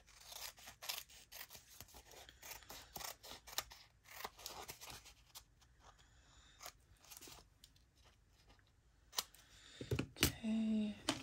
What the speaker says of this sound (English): don't cut paper with the fabric scissors